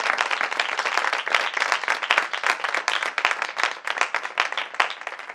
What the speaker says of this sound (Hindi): जोरदार तालियां खुदा के कलाम के लिए।